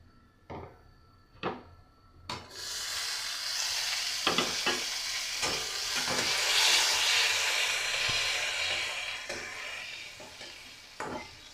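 Bay leaf, garam masala and cumin drop into hot oil in a few sharp clicks, then a loud, steady sizzle of the tempering spreads and holds, broken by occasional utensil knocks.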